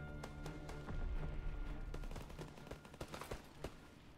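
Sten submachine gun firing in Call of Duty WW2, short bursts of rapid automatic shots cracking close and loud, with brief pauses between bursts.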